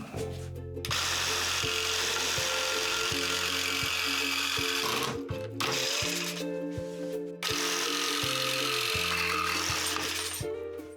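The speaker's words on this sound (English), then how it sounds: "On with the saw" A power saw cuts through wood for a motorcycle topbox rack, running loud and steady for long stretches, with brief pauses between cuts around five and seven seconds.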